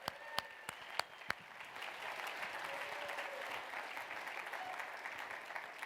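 Gala audience gives a round of applause for the event's organizing team, a few sharp separate claps at first, then building into a steady, moderately distant wash of many hands.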